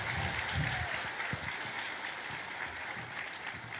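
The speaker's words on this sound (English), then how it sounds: "Let's keep the applause going" A convention crowd at TennoCon 2024 applauds steadily, a dense wash of clapping that stays fairly even throughout, with a few whoops and voices mixed in.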